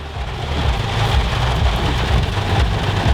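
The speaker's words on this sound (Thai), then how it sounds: "ฝนยังไม่หยุดนะครับผม" Heavy rain pours down steadily on a flooded street, a dense, loud hiss of water that stays constant throughout, with faint traffic rumble underneath.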